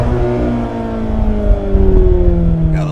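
A 2024 Mazda Miata ND3 engine revs toward its 7,500 RPM red line, a loud, close, rising drone with climbing harmonics, heard from inside the car as the pitch sweeps upward and then eases off.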